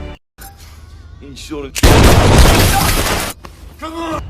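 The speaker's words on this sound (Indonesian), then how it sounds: "karena terpaksa si anak buah pun menembak temannya demi kelangsungan hidupnya" Gunshot in a film scene where a henchman shoots his companion: a loud, broad burst lasting over a second after a short stretch of talk, with speech resuming right after.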